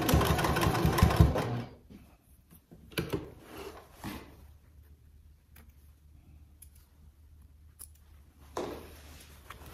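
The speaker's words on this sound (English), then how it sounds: "Now we're going to sew these side pieces at a 1/2 inch seam allowance." A sewing machine runs a short burst while stitching the side pieces of a trick-or-treat bag, then falls to quiet mechanical ticks and clicks, with another brief run near the end.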